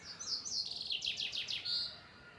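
Small birds chirp in a village, a run of quick high tweets and short trills close by, with a quiet outdoor background and no talking.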